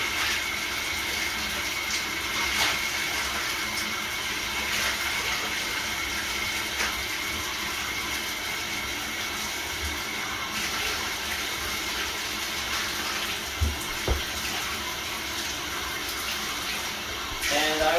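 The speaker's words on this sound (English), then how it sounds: "Get some water in this bathtub" Water runs steadily into a bathtub during a house cleaning, a broad continuous splashing hiss with a few brief knocks and clatters over it, fairly close and even throughout.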